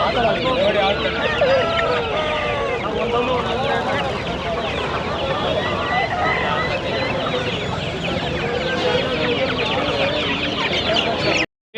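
Many chickens cluck and squawk nonstop at a crowded poultry market in Chandapur, Bengaluru, while people talk over the din.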